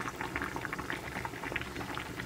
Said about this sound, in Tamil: இப்போ இது நல்லா கொதிக்கட்டும், அடுப்பை ஆஃப் பண்ணிக்கலாம்.